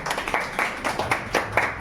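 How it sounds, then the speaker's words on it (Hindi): Scattered hand clapping from a small group of people outdoors, several quick, uneven claps over a couple of seconds. "चलिए भाई एक बार जोरदार ताली बजा दीजिए इनके लिए"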